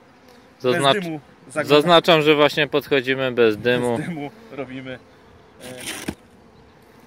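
Honey bees from a small-cell hive buzz steadily around an open box, with people talking over the humming throughout.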